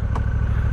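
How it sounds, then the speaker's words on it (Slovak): A Honda NT1100 DCT motorcycle engine turns over and settles into a steady, loud, close rumble with an even pulsing beat and a short burst of rattle near the start. "naštartujeme motor"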